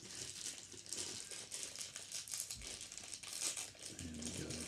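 A sealed plastic bag being torn open by hand gives close, faint crinkling and rustling with a few sharper rips, continuous throughout the short moment.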